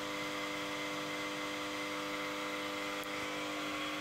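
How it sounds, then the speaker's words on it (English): A 3-phase squirrel cage induction motor runs at no load with its brake drum free, a steady low hum and whir with fixed tonal lines, faint and constant throughout. "You can see the motor is running at no load condition as the brake drum is free."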